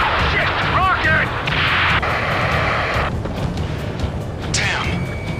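A rocket explodes amid combat in the video game Ace Combat 7, a heavy boom followed by crackling blasts and gunfire layered over radio chatter and voices, with a steady low background roar.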